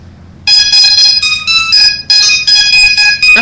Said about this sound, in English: That's Renee's alarm clock.